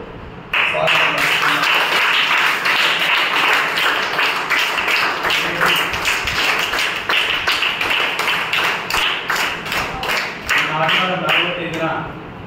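An audience claps for karate students honoured after winning at national-level competitions, a long run of uneven, rippling applause with sharp individual claps, a voice talking over it in places.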